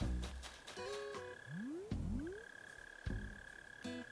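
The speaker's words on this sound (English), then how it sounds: "I hear that bell cricket" A bell cricket chirping in a nighttime video game scene: a faint, steady ringing tone runs throughout, mixed with a few rising swooping tones and soft clicks.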